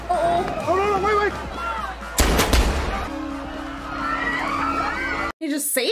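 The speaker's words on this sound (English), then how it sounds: "they're just shooting into the crowd now?" Gunfire rings out amid a chaotic crowd scene in the 2004 movie Collateral, a loud burst of shots under screaming and shouting, with voices talking over the commotion.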